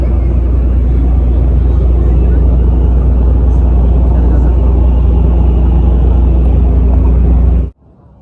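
A boat carries passengers across open water toward a stilt village in Malaysia, its engine a loud, steady rumble that holds for several seconds before cutting off abruptly near the end.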